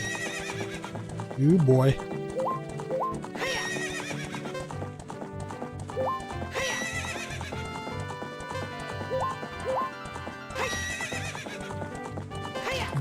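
Horse neighs loudly near the start of a Zelda: Ocarina of Time gameplay scene, followed by steady galloping hoofbeats, all layered over game music, with someone talking briefly.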